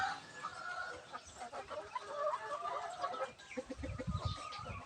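Native Filipino chickens cluck repeatedly at close range, with overlapping bird calls and rustling farmyard noise throughout.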